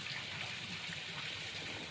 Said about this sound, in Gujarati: મોટરનું પાણી છે ને